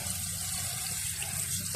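Water pours steadily over the body of a Toyota Vios during a leak test, a continuous close splashing and trickling hiss with no talking.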